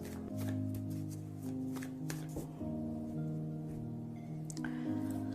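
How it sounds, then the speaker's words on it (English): Tarot cards are shuffled by hand in a soft, papery riffle that repeats over several seconds, quiet and close, with gentle background music underneath. "So now I'm going to choose two cards for guidance."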